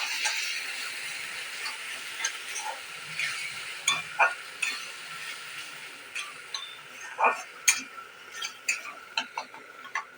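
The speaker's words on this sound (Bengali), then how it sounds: "দেখুন মশলাটাকে সুন্দর করে ভেজে নিয়েছি" Spice paste frying in a pan for a pointed gourd mash, giving a faint, quiet sizzle broken by scattered scrapes and clicks of stirring that grow more frequent toward the end.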